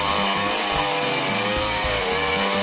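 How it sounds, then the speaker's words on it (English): A chainsaw runs continuously at full throttle, a loud, dense, buzzing roar with no pauses or change in pitch from start to end. "is a chainsaw message for you"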